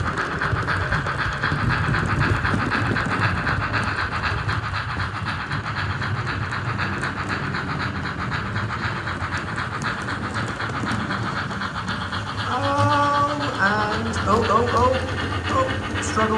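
A model railway train rolls across a junction with continuous rumbling and rhythmic clicking from the track, heard steadily under someone talking, with a brief higher whine near the end.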